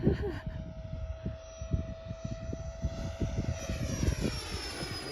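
A Flex Innovations F100d RC model airplane drones overhead at a distance, a steady buzzing engine tone drifting slightly in pitch, with faint outdoor noise underneath.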